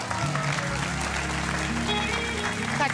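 Studio audience applauding for a guest on a Swedish TV bingo lottery show, a dense, steady wash of clapping over a music bed for about three seconds.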